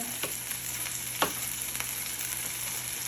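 Taco filling cooking in a pan gives a steady, moderately loud sizzle with a few sharp scraping stir clicks and one louder clatter near the middle, no voices.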